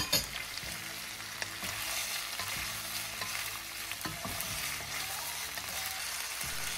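Chayote, string beans and snow peas stir-fried in a hot pan, a continuous loud sizzle broken by repeated scraping strokes of the spatula against the pan at a steady, unhurried rhythm, with no talking.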